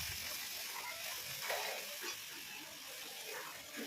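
Spice paste with ginger-garlic, cumin powder and salt frying in a pan, a steady broad sizzle running throughout with faint stirring scrapes, fairly quiet and close.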